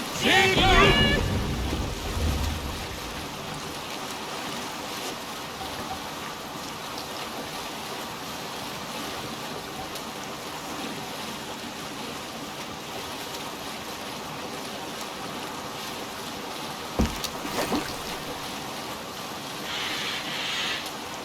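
Ship under sail in Assassin's Creed Valhalla, a steady wash of water and waves running throughout, with a louder splashy burst at the start and a brief knock near the end.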